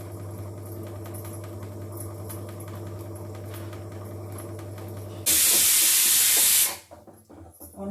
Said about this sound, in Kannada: ಒಂದು ಕಡೆ ಕುಕ್ಕರ್ ಕೂಗ್ತಾ ಇದೆ.